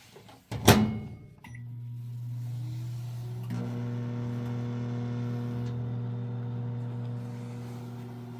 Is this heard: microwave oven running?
yes